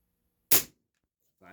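A Daisy Powerline 822 .22 caliber pump air rifle fires a single sharp, loud shot that decays quickly, followed by silence and the start of a voice.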